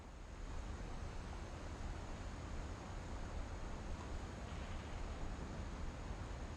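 Ocean waves off the coast of Washington in What Remains of Edith Finch produce a steady, broad rushing wash with a faint wind-like hiss, quiet and unbroken throughout.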